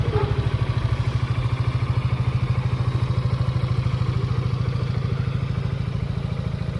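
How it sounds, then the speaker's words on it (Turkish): A Yamaha XMAX scooter engine runs at a steady idle, a close, even, rapid low putter with a clattery pulse throughout and no voices. "Evet motorun çalışması da bu şekilde."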